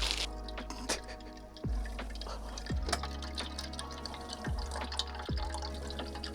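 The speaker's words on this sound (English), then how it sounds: "So I'm going to add 9 1/4 cups of water." Water trickling slowly from a nearly empty tank into a pot for cooking yakisoba noodles, with soft irregular drips and gurgles plus a few low glugs.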